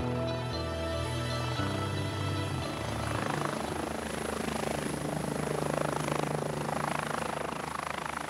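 A firefighters' rescue helicopter flies over Corsica, its engine and rotor making a steady, loud drone with a continuous whine throughout.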